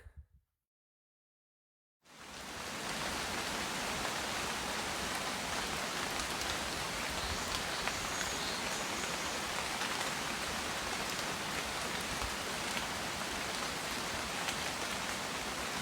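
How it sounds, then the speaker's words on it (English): Steady, dense rain pours onto a cottage in the forested hills of Magoebaskloof, a continuous even hiss that starts abruptly after a brief silence and holds at constant strength throughout, with no voices. "It has been raining all morning long."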